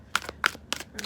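Oracle cards being shuffled by hand, four quick papery riffling bursts in a rapid rhythm, close and fairly clear.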